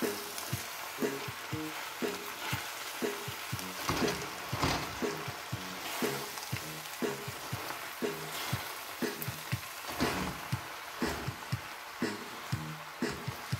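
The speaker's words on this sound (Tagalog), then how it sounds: "hinalo na po natin yung pichay. Haluin lang po natin." Fresh pancit with pechay and crushed black pepper is stirred in a sizzling pan, a steady hiss of frying under regular, rhythmic scrapes of the utensil, close and continuous with no talking.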